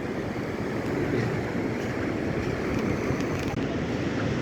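Sea surf rolls in at Rajbag beach in South Goa where a river meets the sea, a steady broad wash of waves mixed with wind buffeting the microphone.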